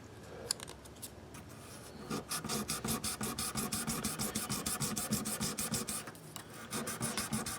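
1200 grit sandpaper rubs back and forth over the frets of an old Hondo Formula 1 guitar, making a steady, close, rhythmic scratching of rapid strokes after a few quieter rubs.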